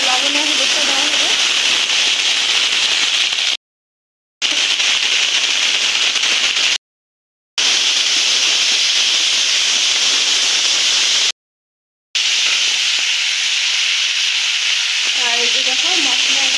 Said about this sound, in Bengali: এই যে দেখো ঝোল ফুটে গেছে। তো এখানে মাছগুলো দেওয়া হয়ে গেছে। তো এটা আর একটু ফুটবে।